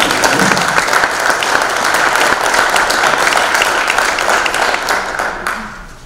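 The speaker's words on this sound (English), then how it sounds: "round of applause for our sheriff" Sustained, loud round of applause from a crowd at the close of a political forum in Pelican Rapids, honoring the sheriff, dense clapping that holds steady for several seconds before tapering off at the end.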